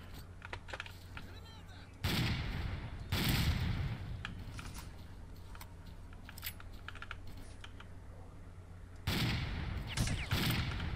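Gunfire in a video game rings out in loud, broadband volleys: one burst near the start, a longer barrage soon after, and another sustained burst near the end. Quieter clicking and a steady low hum fill the gaps between volleys.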